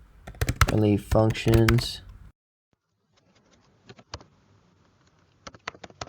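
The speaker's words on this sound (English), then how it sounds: "I really hate this new Mac keyboard" Someone speaks briefly, then sparse, quiet key clicks follow from typing on a Mac computer keyboard, with a small cluster of taps near the end.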